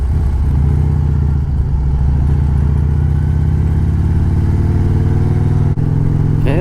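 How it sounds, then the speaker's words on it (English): Car approaching on a rural road with cows nearby, heard from inside a running vehicle: a loud, steady low engine rumble and road noise fill the whole stretch, with no clear separate pass. "There's a car coming."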